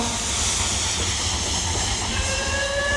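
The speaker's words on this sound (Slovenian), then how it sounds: "Vlak že čaka na postaji, hitro vstopi zdaj v nas." A train's steam hiss runs through a children's dance song, a loud, steady whoosh of air layered over the music with a soft rhythmic rumble beneath.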